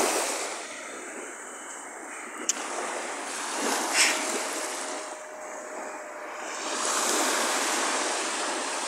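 Sea waves wash continuously onto a shore during a warm-weather walk along the beach, a broad steady surf roar that swells louder toward the end, with no voices.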